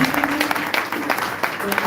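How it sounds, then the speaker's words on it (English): Audience members at a training session clap for themselves, a short patter of scattered hands beneath a speaking voice that continues over the clapping. "Or you can clap for yourself."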